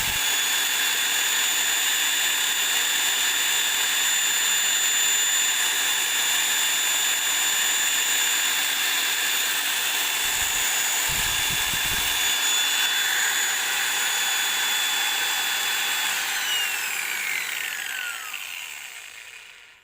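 A grinder rated 540 watts or a 350-watt drill runs on a homemade inverter, giving a loud, steady high-pitched motor whine that holds for most of the time, then winds down and fades near the end.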